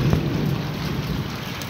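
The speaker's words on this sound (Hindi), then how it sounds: "आप देख रहे हैं बारिश स्टार्ट है, बारिश मज़ा आ रहा है।" Steady rain pours down after a 45-degree heat wave in Mirpurkhas, a dense, loud hiss of drops hitting surfaces with a faint low rumble underneath, continuous and close for the brief stretch.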